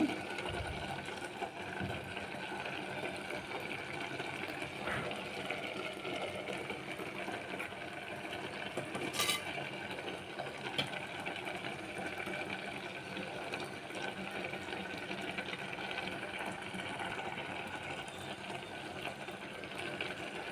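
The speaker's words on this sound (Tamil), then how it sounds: "இப்போ நம்ம தேங்காய் மிக்சியில் அரைச்சிட்டு வந்துடுவோம்" A kitchen mixer grinder grinds coconut, producing a faint, steady motor drone with a buzzy grinding texture that continues evenly throughout, heard from some distance with no speech over it.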